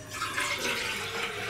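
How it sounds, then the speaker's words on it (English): Water pours steadily into a coffee percolator pot, a continuous close splashing fill with no talking, just a small amount for a couple of cups. "Fill percolator with desired amount of water."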